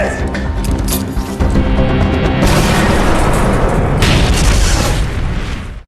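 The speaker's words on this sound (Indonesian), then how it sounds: "flashbang pun dilempar untuk melumpuhkan mereka" A flashbang grenade bursts in an action film scene during a gunfight, a loud booming blast followed by a sustained roaring wash that swells again before cutting off.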